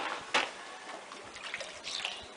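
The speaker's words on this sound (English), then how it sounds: "So you just pour a little bit in and rinse out the gold" Water trickles and splashes as a little is poured into a homemade 2-inch PVC gold trap to rinse out gold, with a soft burbling close up and a brief louder splash near the start.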